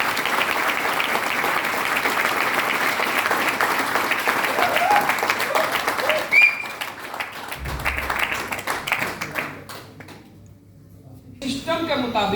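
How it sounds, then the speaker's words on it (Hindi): Sustained applause from a crowd at a sales training event, steady clapping that fades out toward the end, with a voice speaking over it. "ताली बजा दो यार।"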